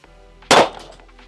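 A single sharp gunshot from a firearm during a drop test of a Holosun 507comp pistol sight, loud and close, with a short decaying ring after a quiet lead-in.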